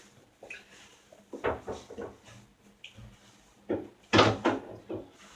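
Items are put away in a kitchen cupboard: a series of quiet wooden knocks, bumps and clatters arrive in small irregular bursts, with one louder clunk near the end.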